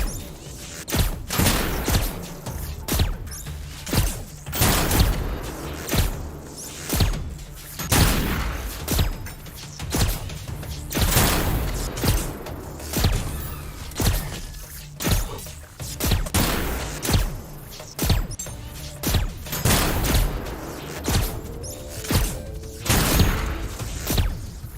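Gunfire from a weapon in the video game Lost Skies repeats in rapid, loud bursts and single heavy shots throughout, dense and continuous with brief gaps.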